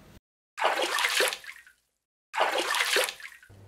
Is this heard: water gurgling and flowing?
yes